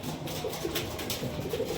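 A Pakistani golden high flyer pigeon in Krishnanagar coos in low, muffled phrases buried in steady, loud broadband noise over a brief moment.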